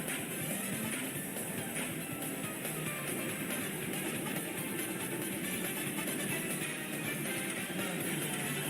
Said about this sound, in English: Here goes another train.